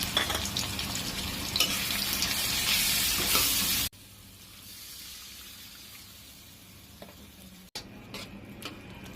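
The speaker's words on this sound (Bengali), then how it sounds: "মশলাগুলোকে ভালো করে পানি দিয়ে কষাতে হবে" Spice masala of coriander, cumin, garam masala, turmeric, chili powder and salt, loosened with water, fries and is stirred in a pan for broiler chicken bhuna. Loud sizzling and scraping give way to a quieter stretch after an abrupt cut, then another cut near the end, with no talking.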